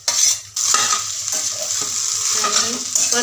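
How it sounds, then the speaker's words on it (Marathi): Mashed potato filling for aloo paratha being stir-fried in a pan, spatula scraping and stirring over a steady sizzle, close and clear with no talk. "आणि परतवून घेते छान असं सर्व एकजीव होईपर्यंत."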